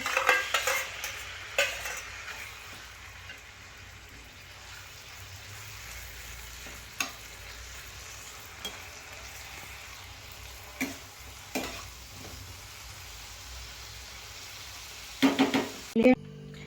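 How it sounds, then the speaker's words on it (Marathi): Coconut-coated prawns fry in melted butter for a restaurant-style curry, a soft steady sizzle with intermittent spoon scrapes and clinks against the pan, a cluster of sharper knocks near the end, and no voices. "ह्याला मस्तपैकी फ्राय करून घेऊया बटरमध्ये"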